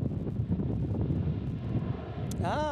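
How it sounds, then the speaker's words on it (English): The Dallas Cowboys team airplane at DFW International Airport, heard as a steady, broad jet engine roar with wind buffeting the microphone, ending in a brief rising whine. "so that's the Cowboys plane"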